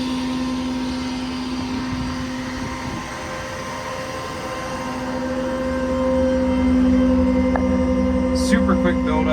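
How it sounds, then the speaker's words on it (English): The air compressor on a Kenworth T370 service truck runs steadily, giving a constant droning hum with a mechanical whine. It swells slightly louder partway through and stays continuous throughout. "It's a monster compressor, tons of air pressure."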